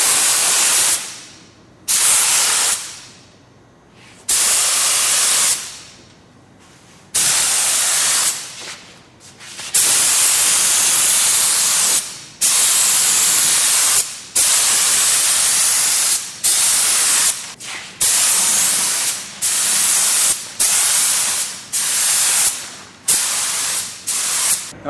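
Spray gun laying clear coat onto a plastic bumper cover, heard as a series of loud, close hissing bursts of varying length separated by short pauses, with no talking.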